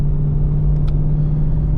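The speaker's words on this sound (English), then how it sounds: "I'm just driving my GT350 down the residential roads." Ford Shelby GT350 cruising slowly down residential roads with its engine still warming up, a steady low rumble and drone from inside the car at a constant, unrevved pace, with no voices.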